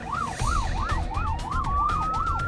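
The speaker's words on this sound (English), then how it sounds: "Lights and sirens are immediately required for this time-critical job." A Victorian paramedics ambulance siren on an urgent run to a car crash wails loudly and close in a fast, regular up-and-down cycle, with traffic rumbling underneath.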